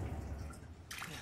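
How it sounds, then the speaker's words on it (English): A gentle liquid trickle and drip as healing fluid is poured over a hand in Resident Evil 7, soft and close, with a brighter splashing burst near the end over low game ambience. "Just pour that Purell right over your hand and everything's Purell."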